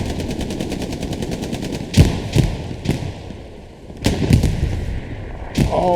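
Gunfire and tank fire in Hell Let Loose: a rapid burst of automatic fire, then several heavy booming shots and thuds at irregular intervals, loud and close, with no voices.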